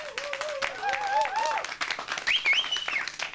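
An audience claps steadily over a few seconds, dense scattered claps mixed with whoops and raised voices close by.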